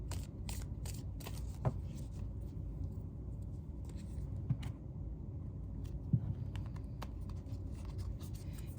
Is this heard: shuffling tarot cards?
yes